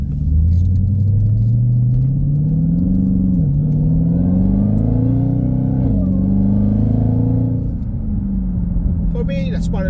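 Dodge Hellcat V8 rumbles loudly up close, climbing through several deep rising revs with short drops between them, a heavy throaty drone holding for most of the stretch before easing off.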